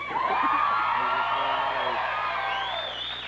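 A talk-show studio audience cheers and whoops for Arnold Schwarzenegger's arrival, a loud, dense roar of voices with high shrill whoops that stays strong and then thins slightly toward the end.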